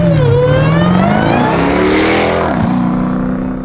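Modified 975 hp Jeep Trackhawk accelerates hard, engine roaring up through the revs, briefly dropping at a gear change, then climbing again as the loud, close sound begins to fade.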